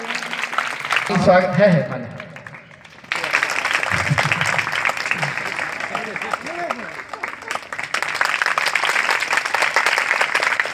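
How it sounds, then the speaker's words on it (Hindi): During a welcome ceremony at a large Gayatri mahayagya and youth festival, a crowd claps loudly and continuously, with someone speaking over the applause and a brief quieter lull early on. "एक बार जोरदार तालियां।"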